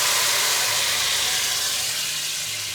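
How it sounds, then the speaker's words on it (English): Dry white wine hisses and sizzles as it hits a hot pan of crisping cured ham, a loud, close, steady frying rush that fades slightly as it settles. "Bit of a sizzle going on."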